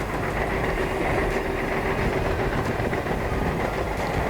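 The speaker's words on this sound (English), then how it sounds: "this time a freight train, a container freight train going towards Pune" A container freight train heading toward Pune rumbles past with a steady, loud rolling roar and faint rhythmic wheel clatter that runs unbroken throughout.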